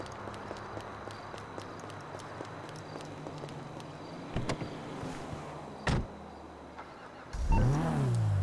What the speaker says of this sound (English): Let me at least get in my car